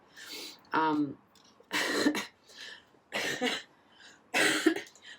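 Four separate bursts of coughing, each a short harsh cluster, close and clear against a quiet background.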